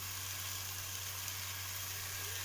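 Masala sizzles steadily in hot oil for a pea kurma, a constant bright hiss with no pauses and no talking.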